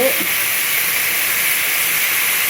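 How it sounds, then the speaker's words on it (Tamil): Tomatoes sautéing with a little salt in a pan for a fish and brinjal curry, giving a steady, loud hiss of steam and sizzle that runs unbroken throughout. "தக்காளி போட்டுட்டு அப்படியே வதக்குங்க உப்பு போட்டுங்க கொஞ்சோண்டு போட்டு வதக்கினா சட்டுன்னு வதங்க"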